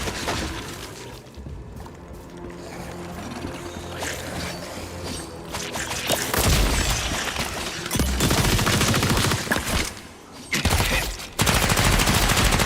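Sustained, dense gunfire from a gun in a fantasy MMO video game, a loud continuous roar of rapid shots layered with game effects and music, building in intensity with brief drops near the end.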